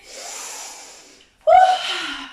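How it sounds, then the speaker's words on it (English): Heavy, forceful breathing during a dynamic meditation exercise: a long audible exhale, a pause, then a sharp, loud gasping inhale, close to the microphone. "Keep breathing."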